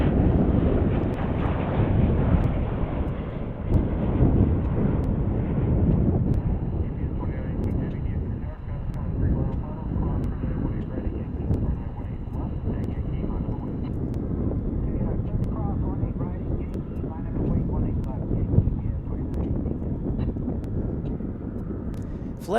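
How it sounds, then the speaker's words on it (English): A Boeing 737 or Dreamliner airliner at DFW International Airport produces a loud, sustained jet roar that swells and holds for the whole stretch, with a voice talking over it. "after the 737, we'll get our Dreamliner."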